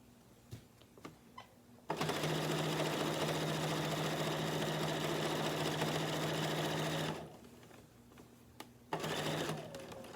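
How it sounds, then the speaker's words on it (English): Sewing machine stitching binding onto a quilt, running in one loud, steady whirring burst for about five seconds after a few clicks, then stopping and briefly starting again. "Sewing, sewing, sewing."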